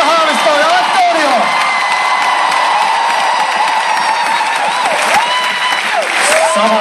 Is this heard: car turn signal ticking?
no